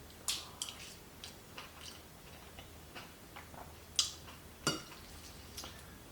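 A Thai spoon scoops chicken pilaf from a plate, giving light, sparse clinks and taps of metal on ceramic against a quiet room.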